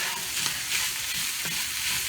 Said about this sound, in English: Now fry the seasoning in with the meat.